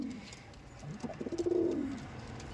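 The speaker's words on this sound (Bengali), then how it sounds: "আন্ধ্রা পায়রা কাকে বলে আন্ধ্রা পিজন্স কাকে কি বলে দেখুন" An Andhra pigeon in a loft gives one rolling, throaty coo that swells and fades over about a second, close by, with faint loft background and no talking.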